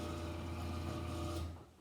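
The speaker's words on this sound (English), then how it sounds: "I can hear the motor straining." A garage door opener motor drones with a steady low hum and tonal whine, straining evenly under a heavy, poorly balanced door before winding down at the end.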